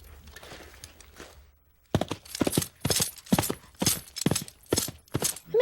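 Foley plungers are struck to imitate horse hooves, with a faint shuffle first, then a loud run of hollow, clopping thumps in an uneven galloping rhythm, close and dry.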